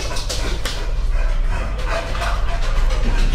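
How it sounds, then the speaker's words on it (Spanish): Several neighbourhood dogs bark and yip in the distance, a busy overlapping chorus of short barks running throughout under a steady low background hum. "No puedo grabar esta hora porque hay concierto de perritos en el barrio."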